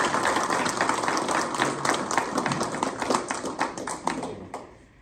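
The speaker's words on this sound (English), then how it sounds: "big applause" A room of listeners at a marketing talk applauds the presenter, a close, loud burst of many individual claps that thins out toward the end, with some voices mixed in.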